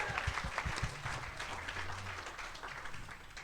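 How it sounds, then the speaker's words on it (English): A studio audience claps at a live football-themed show, with dense, sustained applause and a few low hums or voices in the background. "Yes, there's more clapping."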